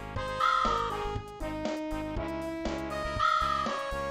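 A crow-like bird in a video game caws loudly and repeatedly, harsh drawn-out calls rising and falling over a tonal game music background, with no one speaking.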